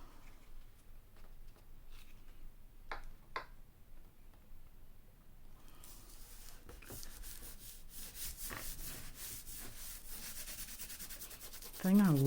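Excess craft glue is rubbed off a fabric pocket by hand, giving quiet, close scratchy rubbing and soft ticking strokes that grow busier in the second half, with no talk.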